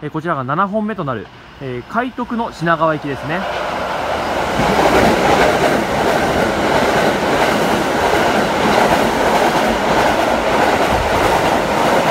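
A Keikyu express train passes through Koyasu station with a loud, steady roar and rhythmic wheel clatter that builds and holds. A person speaks briefly beforehand.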